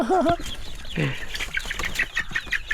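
Nearby chickens cluck and squawk in quick bursts at a Thai farmyard, with a short human vocal sound near the start.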